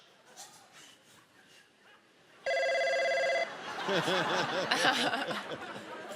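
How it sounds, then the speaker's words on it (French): A telephone rings with a steady electronic tone for about a second during a French comedy game show, then laughter and chatter from the studio crowd take over. "Soudain, le téléphone sonne."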